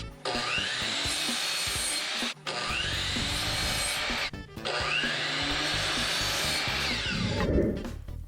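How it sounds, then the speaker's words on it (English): A power saw cuts 2x2 wood boards into 26-inch lengths, giving three long, loud, close cuts separated by brief pauses, each a steady whining, rasping buzz, with a thud near the end. "Now I'll cut these 4 2x2s into 26-inch lengths."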